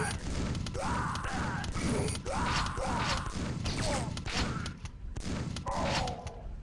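Monster death sounds from the video game Quake, a loud, dense run of crunching, smashing impacts and gory thuds repeating in quick bursts with no one talking.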